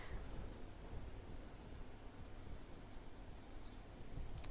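Faint, steady scratching of chalk or a marker on a classroom board as a fraction is written out in a class two maths lesson, with no voices.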